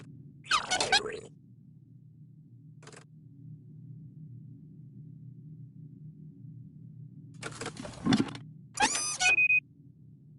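Mechanical clanks and squeaks from the gear-driven engine of a town model in the adventure game Unwritten Tale 2, a few short bursts near the start and end over a steady low hum, with no talking.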